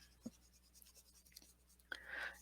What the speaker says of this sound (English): they do scratch on the paper a little bit.